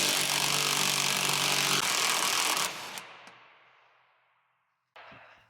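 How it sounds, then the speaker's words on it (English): A power tool whirs loudly and steadily as it loosens the top nut of a semi truck air bag, then winds down and fades before a short second burst of tool noise. "Go ahead and remove the top nut."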